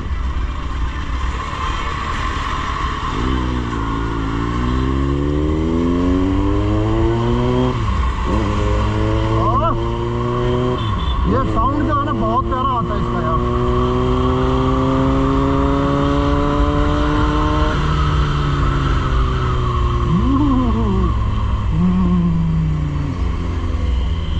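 Kawasaki Z900 motorcycle engine revving up and down repeatedly, close and loud, with rising and falling pitch sweeps over a steady idle rumble, no talking.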